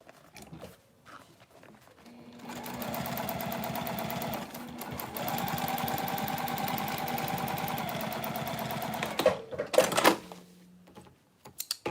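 Sewing machine running a line of contrast stitching on a mini box tote, a steady fast mechanical whir and needle clatter lasting about seven seconds, with short handling noises before and after.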